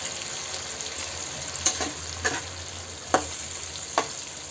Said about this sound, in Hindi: अच्छे से भून लेना है सारे मसालों को।